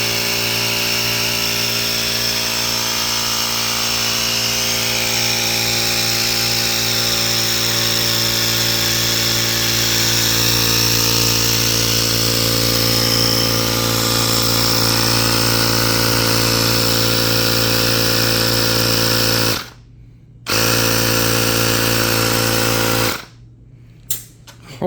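An air compressor inflates a TuBliss-equipped dirt bike tire to 30 pounds to seat the bead, a loud, steady, close mechanical drone with broad hiss that cuts out briefly twice near the end, with no talking.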